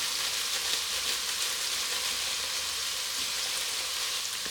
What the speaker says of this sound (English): Now they're actually frying in the oil.